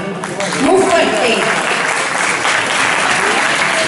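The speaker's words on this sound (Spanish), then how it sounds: "Pues un aplauso para él. Muy fuerte." Loud, sustained applause from an audience at a stage show, with voices calling out over the dense clapping throughout.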